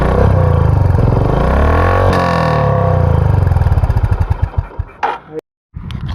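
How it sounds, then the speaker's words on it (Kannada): A Honda Highness CB350 motorcycle's exhaust thumps steadily at idle, close and loud, then rises briefly in a rev before settling into uneven pulses and cutting off to silence, with a short burst of engine noise afterward. "ಈಗ ಎಕ್ಸಾಸ್ಟ್ ನೋಟ್ ಹೆಂಗಿದೆ ಅಂತ ಕೇಳೋಣ ಬನ್ನಿ"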